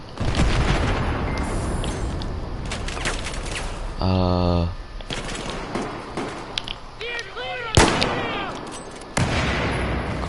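Gunfire and explosions from Battlefield 4 on a battlefield with a tank: sharp shots, a burst of rapid mechanical firing and heavy booms, mixed with a voice talking over the action.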